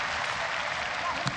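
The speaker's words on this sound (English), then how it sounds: "Every time Tiffany Teo gives them a sniff of something, this crowd responds." The crowd at Singapore Indoor Stadium breaks into a short burst of cheering and applause during a ONE Championship MMA fight, dense and roaring, with a commentator talking over it.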